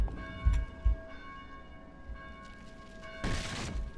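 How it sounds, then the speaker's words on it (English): Church bells in the Dead Island video game ring from a belfry with a few separate strikes, then a burst of louder clanging near the end, heard at moderate distance without talk. "Maybe you can figure out how to silence those blasted bells."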